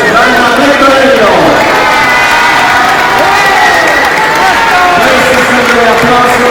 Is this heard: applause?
yes